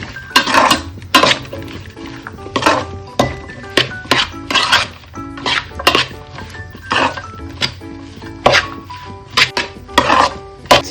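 Kerala kappa aviyal, tapioca with ground coconut paste, stirred in a metal cooking pot: repeated loud clanks and scrapes of a spoon against the pot in an uneven rhythm, close by with no talking.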